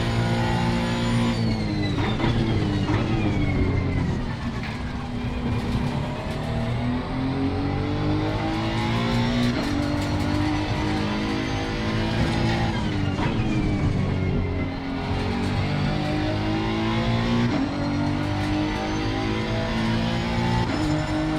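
A Honda NSX EVO GT3 race car in Assetto Corsa Competizione laps the Kyalami Grand Prix circuit, its engine droning loud and close with continuous revving that rises and falls through gear shifts.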